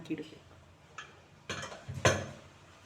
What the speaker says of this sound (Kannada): ಈಗ ಕುಕ್ಕರ್ ಓಪನ್